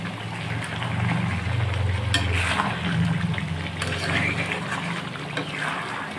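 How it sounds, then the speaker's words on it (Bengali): Chicken curry being stirred in a pan, a steady close sizzle and wet scraping running throughout, with a voice speaking over it. "এবার নাড়বো"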